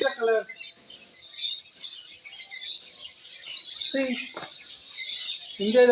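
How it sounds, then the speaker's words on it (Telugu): Sparrows chirp in quick, bright bursts at a zoo in Hyderabad, many birds twittering at middle distance while people talk over them on and off. "పిచ్చుకల సౌండ్"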